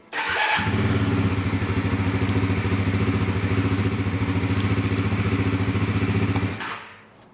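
A Bajaj Pulsar NS400 motorcycle engine cranks and fires, then idles with a steady throbbing rumble for several seconds before shutting off, close and fairly loud.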